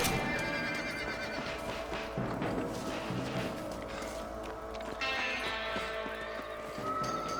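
Horses in the Red Dead Redemption video game neigh and whinny repeatedly over clip-clopping hooves, loud and close, with no talk.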